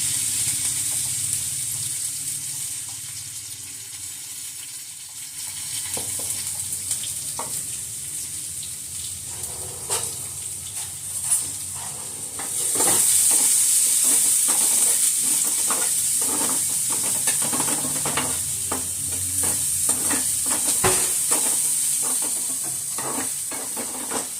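Onion and curry leaves with salt frying for prawn masala, a close, steady sizzle with repeated scraping stirs, growing louder and brighter about halfway through.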